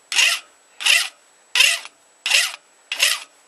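A file rasps across a knife part clamped in a vise, making five even, scratchy strokes at a steady rhythm with short silences between them, close and clear.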